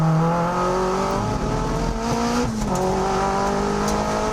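A Mazda MX-5 race car at a time attack event holds a loud, continuous engine drone, its pitch climbing steadily through the gear with a brief dip before rising again. The car is heard close up, with no voices.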